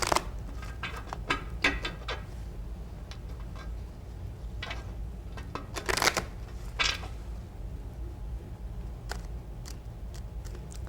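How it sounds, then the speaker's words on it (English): Intermittent crisp riffling and snapping of tarot cards being shuffled, short bursts separated by quiet pauses against a low background hum. "Okay, Herman, you need to shuffle these cards 3 or 4 times."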